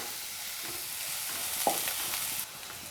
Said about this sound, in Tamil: நம்ம கருவேப்பிலையை சேர்த்து ஒன்றா கிளறி விட்டுறலாம்.